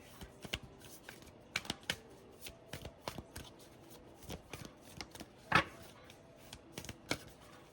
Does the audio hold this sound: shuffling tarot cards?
yes